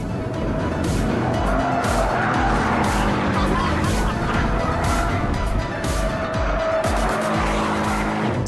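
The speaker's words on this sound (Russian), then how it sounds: "И блин, как же он тормозит, эти здоровенные тормоза!" A GT4 sports car with large brakes brakes hard on a race track, a loud continuous engine roar with tire squeal and skidding noise running throughout at close range.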